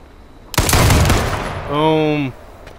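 Gunshot in a battle royale video game: a single sharp, loud blast with a decaying tail, followed by a brief tonal game sound effect.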